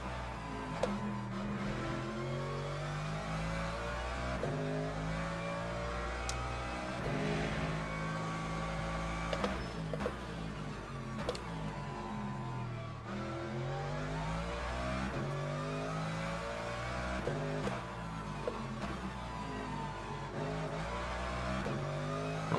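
Race cars and hypercars, including a BMW, roar through a Le Mans Ultimate race, with a steady layered engine drone and shifting revs running throughout at moderate level.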